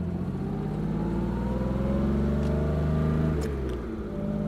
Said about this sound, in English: And now, back for some more time behind the wheel of the E-Type.